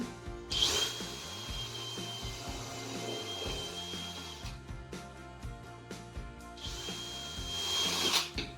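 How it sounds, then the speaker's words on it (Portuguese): An 8 mm drill bit fitted with a depth stop bores holes into wood while a piece of furniture is restored, the powered drill whining loudly in two bursts separated by a quieter stretch of workshop clatter. "É só fazer o furo de um lado e do outro."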